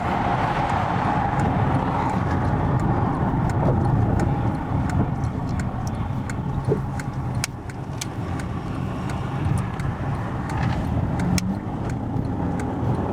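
A car driving along a road toward an expressway, giving a steady engine and tyre rumble from inside the cabin, overlaid with faint, regular ticking.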